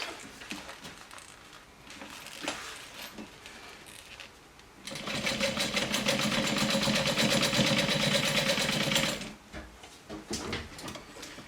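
Sewing machine top stitching a fanny pack: short bursts of stitching and handling clicks, then a sustained fast mechanical whir for about four seconds before stopping, close and clear.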